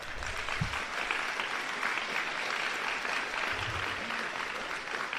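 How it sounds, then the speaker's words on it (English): Sustained applause for the assistant coaches at a Georgia signing-day event, an even, continuous wash of crowd clapping with no talk over it. "please give them a round of applause"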